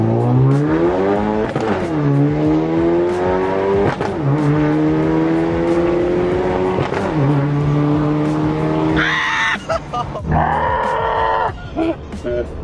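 A Chevrolet Camaro with the 2.0L turbo four-cylinder and a ZZP tune pulls hard in one loud, close run, engine pitch climbing through several gear changes before ending in sharper bursts of noise.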